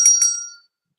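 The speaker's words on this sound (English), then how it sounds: "we are ringing the bell." A small bell is rung twice in quick succession, bright and close, its metallic tone fading out within about half a second, followed by silence.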